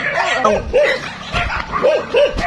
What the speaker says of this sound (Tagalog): Mga aso pa palapit na.